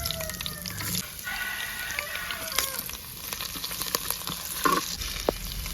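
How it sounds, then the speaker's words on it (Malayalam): Ginger and fenugreek fry in hot oil in a constant close sizzle, with scattered crackles and the scrape of a stirring spoon through the pan. "ഇതിലോട്ട് ഇഞ്ചിട്ട് കൊടുത്തു."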